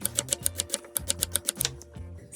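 A knife chopping leeks on a cutting board in a kitchen, with quick, evenly spaced crisp chops in two short bursts and a brief pause between them.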